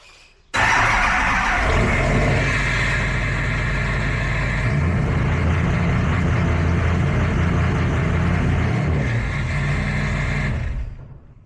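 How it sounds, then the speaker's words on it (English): A 2008 Chevy Duramax truck engine cranks over and runs loud and close inside a shop, a steady heavy diesel drone that holds for about ten seconds before cutting off. "I'm gonna crank her out."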